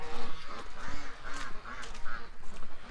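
Ducks quacking repeatedly in a muddy, torn-up backyard, several close, loud calls in uneven bursts with no talking.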